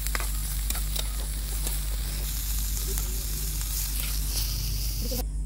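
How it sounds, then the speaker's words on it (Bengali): Chopped onions frying in a little oil, a steady close sizzle with a few faint stirring taps, continuous and unbroken. "পেঁয়াজগুলোকে হালকা একটু ভেজে নিব।"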